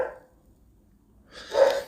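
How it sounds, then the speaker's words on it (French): A neighbour's dog gives one short, muffled bark from some distance away, after a brief rough huff at the start and a stretch of near silence. "c'est le voisin et son chien"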